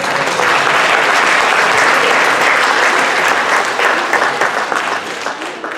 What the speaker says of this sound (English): So give him a big, loud applause.